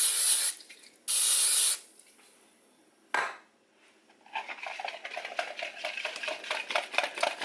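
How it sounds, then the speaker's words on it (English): Oil cooking spray is sprayed onto a hot waffle maker in two short loud hissing bursts, followed by a clack and then some faint clattering. "which is an oil spray. I'm going to spray"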